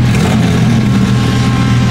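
Porsche GT3 engine with a new exhaust, a steady loud close rumble with a low droning tone throughout, alone without voices.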